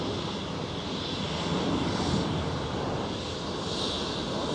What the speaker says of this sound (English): Next departure is rolling on the cross runway, an Embraer 195